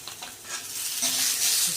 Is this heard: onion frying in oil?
yes